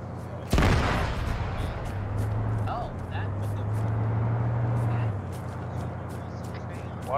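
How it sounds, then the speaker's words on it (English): A sharp, loud explosion in the Arma 3 military game bursts out early, followed by a lingering low rumble and distant reverberation while players talk over radio. "What was that explosion?"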